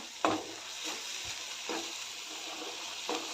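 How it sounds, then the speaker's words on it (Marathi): Turmeric and spices stirred and sautéed in a hot pan while making a spinach dish, with a steady sizzle and a few sharp scrapes of the spoon against the pan at intervals, no voices. "त्यानंतर थोडीशी हळद घालते सर्व मिक्स करून परतून घेऊया"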